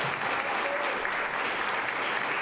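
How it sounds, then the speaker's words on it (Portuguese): A church congregation claps together during a Sunday worship service, a dense, steady round of applause that holds evenly throughout without any voices on top. "Vamos aplaudir o Senhor."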